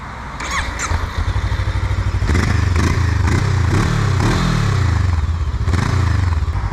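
A Voge 500 AC motorcycle engine running close by, a loud steady thumping idle that rises into a few revs before settling again.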